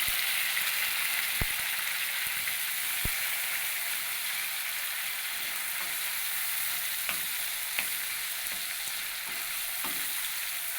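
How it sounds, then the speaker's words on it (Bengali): Chopped tomato and ginger paste fry in a pan with a steady, even sizzle, while a spatula stirs with occasional light clicks and scrapes against the metal, and nobody speaks. "টমেটো আর আদাটাকেও বেশ কিছুক্ষণ নেড়েচেড়ে ভেজে নেব"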